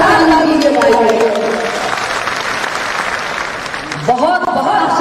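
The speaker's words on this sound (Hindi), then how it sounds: "इनके लिए जोरदार ताली दीजिए" Applause from a crowd at a state-level political party workshop in Patna's Bapu Sabhagar hall, loud steady clapping that fills the room and fades slightly as a voice begins speaking near the end.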